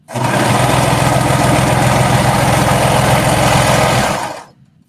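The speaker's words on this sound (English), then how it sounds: "And then sewing all the way down to the bottom" A sewing machine runs steadily, stitching knit fabric down a skater dress seam, a loud continuous motor drone with a fast stitch pulse lasting about four seconds before stopping abruptly.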